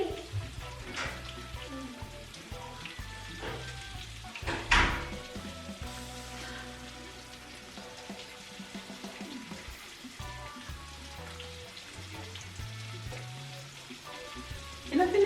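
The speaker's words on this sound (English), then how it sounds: "put all the saltfish in the oil." Saltfish frying in hot oil in a pot, a steady soft sizzle mixed with clinks and scrapes of a utensil against the pot and occasional louder knocks.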